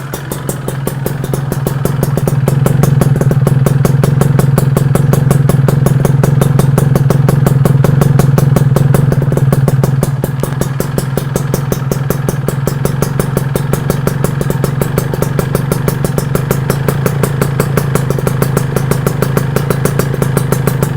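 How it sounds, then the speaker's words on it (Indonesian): Kawasaki Ninja R with a bored-out block and a cheap aftermarket RCB exhaust, rumbling steadily at idle with a deep, throbbing pulse, loud and close, a slight rise in revs early on before settling back, no talking. "Dari motor aku, pakai knalpot harga 300 ribuan."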